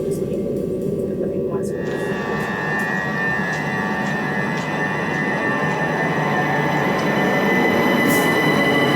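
A steady, loud rumble of a moving train on the Kent Downs railway line in England, with rattling carriage noise and faint high metallic squeals over it.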